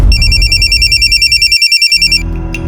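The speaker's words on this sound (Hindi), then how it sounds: "उसके बाद फौरन मैंने मुकेश को फोन लगाया।" Loud electronic telephone ring, a rapid warbling trill repeating for about two seconds before cutting off, close to the microphone.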